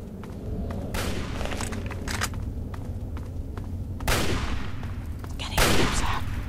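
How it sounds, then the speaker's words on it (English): Gunshots ring out in the Fallout 3 wasteland as someone shoots at radroaches: several sharp reports over steady background ambience, with two louder bursts near the end. "Oh, somebody shooting at rad roaches."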